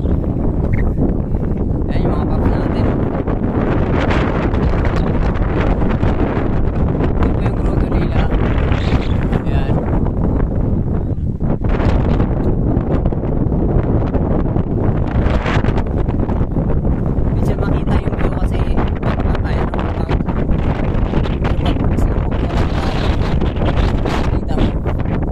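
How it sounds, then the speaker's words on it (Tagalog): Strong wind roars and buffets the microphone without letup on a motorcycle ride in Tanay, Rizal, a dense, gusting rush that stays loud from start to finish. "grabe lakas ng hangin"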